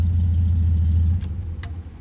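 VW Beetle engine idling, a loud, steady low rumble close by for about a second before it cuts down, followed by a couple of brief clicks.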